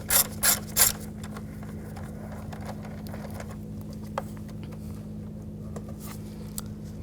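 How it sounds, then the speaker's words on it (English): A 5mm hex socket on a ratchet loosens a screw on a 2011-2018 Volkswagen Jetta. Three quick ratcheting bursts come first, followed by faint clicks and light handling noises over low hum. "Using a 5mm hex socket, I'm going to take this screw, loosen this up."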